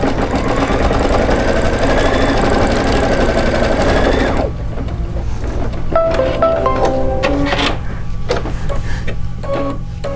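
A Kimberbell embroidery machine stitches a placement line with a loud, fast, steady mechanical whir, then shifts to a quieter rhythmic stitching pattern with clicks partway through, close up and with no talking.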